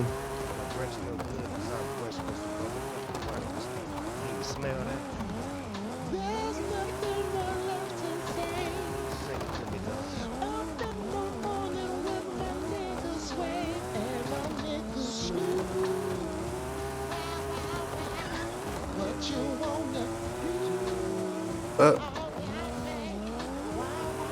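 A Nissan Silvia S13 carrying an RB26 engine races in Forza Horizon 5, its engine revving hard and warbling up and down through shifts with tire squeal, loud and close, with a voice talking over it at times.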